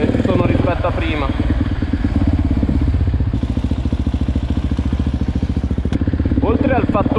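Husqvarna 701 supermoto fitted with an Akrapovic exhaust runs close by with a loud, throbbing, rapid-pulse idle, while someone talks over it at the start and end.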